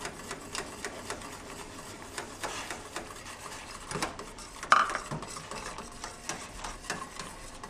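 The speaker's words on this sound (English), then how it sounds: "So I'm going to mix it with my whisk." A whisk stirs broth in a pot while polenta is added, a steady close scraping and rattling rhythm of metal against the pan, with a few louder knocks along the way.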